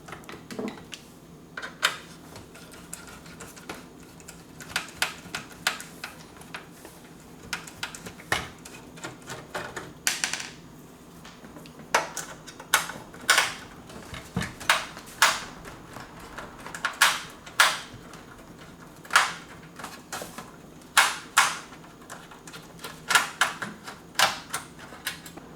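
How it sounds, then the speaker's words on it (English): Screws are removed from the cover of a Cisco DVR box, giving scattered sharp metallic clicks and ticks from a screwdriver at close range, irregular and growing busier, with no talk. "Go ahead and remove those screws."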